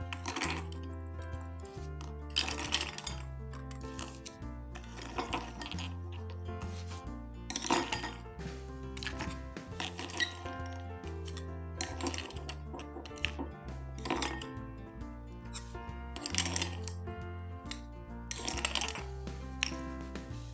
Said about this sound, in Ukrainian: Наша задача перекласти за допомогою ложки всі предмети з однієї ємності в іншу.